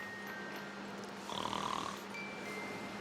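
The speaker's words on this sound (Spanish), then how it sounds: "A ver cómo ronca." A person snoring, one faint rasping breath in the middle of quiet background noise.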